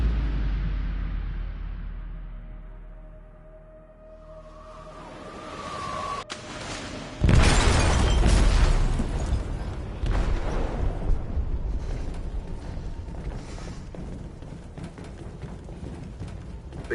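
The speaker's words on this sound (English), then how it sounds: "They detonated an explosive in the hold." An explosive detonated in a ship's hold in the video game Detroit: Become Human: a low rumbling build-up and a short silence, then a sudden loud blast that rolls on into sustained debris and rumble.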